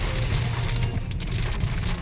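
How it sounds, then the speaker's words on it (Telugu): Heavy rain pouring steadily, a dense hiss and drumming close by with a low rumble underneath, continuous and loud throughout, during a drive. "ఇదిగోండి, చాలా వర్షం పడుతుంది."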